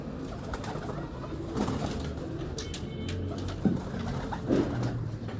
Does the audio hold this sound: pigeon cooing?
yes